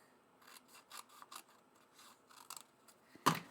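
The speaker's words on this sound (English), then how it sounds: "So let me cut this piece right here real quick." Scissors snip paper for scrapbooking in a quiet room: a loose series of soft, close cuts, with one sharp, louder snip near the end and no talk.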